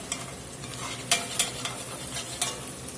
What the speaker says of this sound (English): I like to just kind of scrape that every now and then and reincorporate those sugars